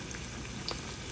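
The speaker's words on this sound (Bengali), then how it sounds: "গরম তেলে দেওয়ার সঙ্গে সঙ্গে এগুলো ভাজা হয়ে যাচ্ছে।" Bangladeshi onion fritters (piyaju) frying in hot oil, a faint, steady sizzling hiss with a few soft pops.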